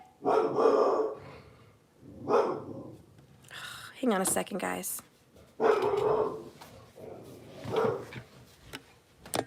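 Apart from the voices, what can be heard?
dog barking and growling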